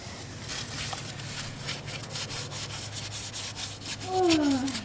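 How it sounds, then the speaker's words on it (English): Sand pushed and packed tightly into a gap by hand, a close, continuous gritty rubbing and scraping with repeated short strokes, faint and alone, ending with a brief squeak. "I'm just trying to push sand in there as tight as I can."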